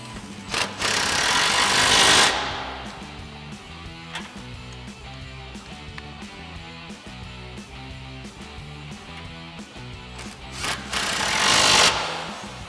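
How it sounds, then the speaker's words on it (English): An impact wrench with a 16 mm socket and extension tightens mounting bracket nuts on a 1994–2004 Mustang coil-over install, two loud hammering bursts framing a steady rhythmic mechanical clatter. "we'll grab our 16 mil socket and extension on our impact and tighten these down"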